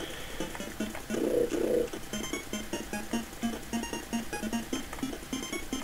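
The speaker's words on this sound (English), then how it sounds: "when he makes the high-pitched owl sound effect, that's him getting damaged" Enemy-damage sound effect in a video game, a high-pitched owl-like hoot, heard as one stronger burst followed by a long run of soft, evenly repeating low hoots over game background.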